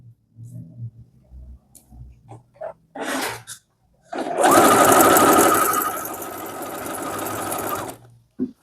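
A sewing machine stitches stretched elastic onto a blouse sleeve. After a few short clicks and handling noises, a loud, steady run of fast stitching lasts about four seconds before stopping.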